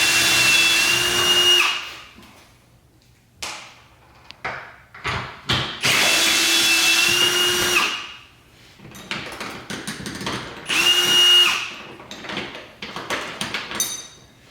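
A power drill fitted with a 13 mm socket zips off bolts holding a rooftop tent to a truck bed rack, in three loud bursts with clanks, handling noises and short pauses between them.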